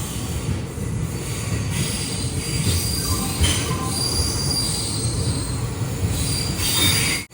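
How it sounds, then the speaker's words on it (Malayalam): Silambu Express sleeper train pulling into Tiruchirappalli Junction, its wheels squealing steadily against the rails over a continuous rumble of railcars, loud and close throughout, with no talk. "ട്രെയിനിൽ ഇതാ തിരുച്ചിറപ്പള്ളി ജംഗ്ഷൻ റെയിൽവേ സ്റ്റേഷനിലേക്ക് എത്തുകയാണ്"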